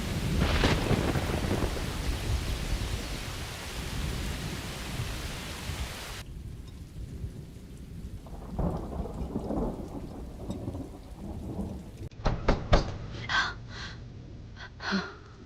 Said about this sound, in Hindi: इसलिए गड़गड़ाहट ज्यादा हो रही है।